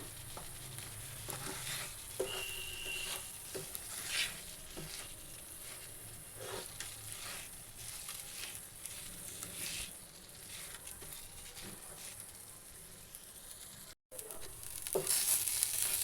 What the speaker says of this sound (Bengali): এটাকে খুব ভালো করে একটু কষিয়ে নিলাম